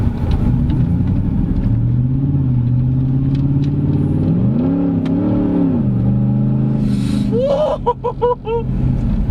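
A 2012 Ford F-150 SVT Raptor pickup with a V8 pulls hard under automatic shifting, its deep engine note climbing, dropping at an upshift and climbing again, loud and close, with a brief burst of noise near the end.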